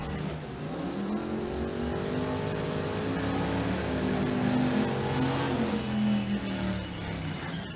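A diesel drag car launches hard down the strip while rolling coal, its engine roaring loud and steady for several seconds with shifting pitch as it pulls away.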